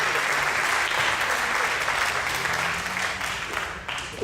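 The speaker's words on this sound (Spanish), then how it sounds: "Un aplauso, por favor" Applause from a conference audience, a dense wash of clapping that starts strong and gradually thins toward the end.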